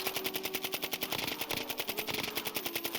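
A Castoff 545 rifle fires in the Warzone video game firing range, a steady, fast, evenly spaced stream of shots held for the whole stretch, fairly quiet and without speech.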